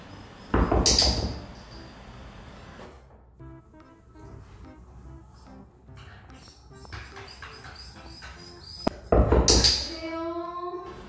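Forceful knocking on a door comes in two loud, sharp bursts, one at the start and another near the end, with a quieter indoor background in between.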